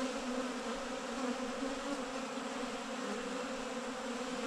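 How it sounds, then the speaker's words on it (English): A wasp buzzes among honey bees around cross-stacked honey supers set outdoors in the morning, a steady close insect drone holding level for several seconds with no voices. "There's a freeloading wasp of some type."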